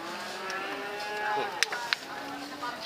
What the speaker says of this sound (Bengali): এটা কি জাতের গরু